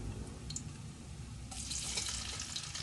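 Onions going into turkey meat already browning in a pan for Ilocano-style turkey kaldereta, a steady broadband sizzle that jumps louder and brighter partway through as the onions hit the hot fat, with no talking.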